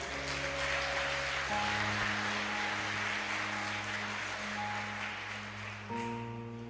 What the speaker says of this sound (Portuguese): Você pode aplaudir o seu Jesus bem alto?